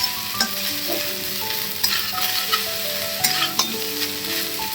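Fried rice frying and being stirred in a pan on full flame, a steady close sizzle broken by frequent scraping and clinking stirring strokes, with no voices.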